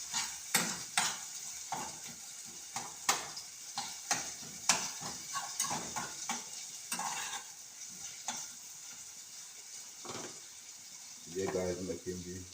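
Seasoned tinned mackerel frying Jamaican style: a steady hiss of oil under repeated sharp clanks and scrapes of a utensil against the pan, close, with a voice briefly speaking near the end.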